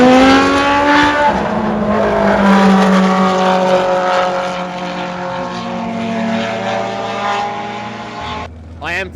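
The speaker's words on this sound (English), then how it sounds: "that Mugen V8 sounds insane, like wild" A Formula 3 race car with a Mugen V8 engine screams past at Suzuka Circuit, its loud high-revving wail sustained and shifting pitch before dropping away abruptly at the end.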